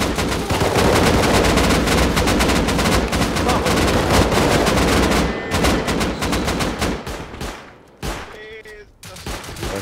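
Dense video game gunfire, loud rapid automatic bursts that roar continuously before thinning into scattered shots and a few separate cracks near the end.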